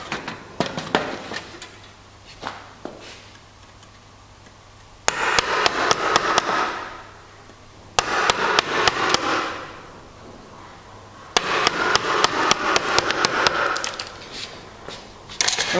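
A chisel chops out a timber door lining housing joint in repeated bursts of sharp, close wooden knocks and splintering cuts, separated by quieter pauses.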